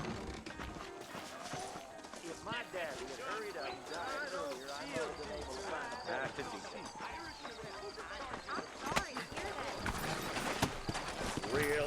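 Rhythmic clip-clop of horse hooves in Red Dead Redemption plods along steadily beneath talking voices and a soft music bed.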